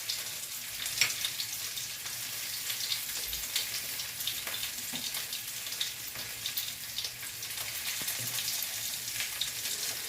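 Bay leaf and cinnamon pieces frying in hot oil for an Odia prawn curry, a steady close sizzle and crackle running throughout with scattered pops and small spatters, no voices.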